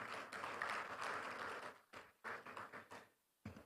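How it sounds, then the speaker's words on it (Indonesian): Audience applause at an East Java talk show on food security, a fairly faint burst of clapping that thins out and breaks into short scattered bursts toward the end. "Jadi tepuk tangan untuk kita semua"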